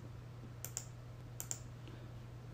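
Two pairs of quick, faint mouse clicks, each pair a double click, heard over a steady low hum while drawing in Mastercam CAD software.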